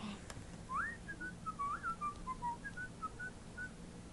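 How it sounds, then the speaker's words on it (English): A person whistles a wandering melody of short rising and falling notes, alone and fairly faint against a low background hiss. "I'm good at whistling."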